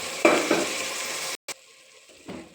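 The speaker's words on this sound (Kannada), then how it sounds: "ಈಗ 1 ಬೌಲ್ ಬಟಾಣಿನ ಸೇರಿಸ್ತಾ ಇದ್ದೀನಿ ನಾನು" A bowl of peas tipped into a pan of softened, sizzling tomato, with a steady broadband fry hiss, a couple of clattering thuds as they land, then a sudden drop and a quieter sizzle continuing.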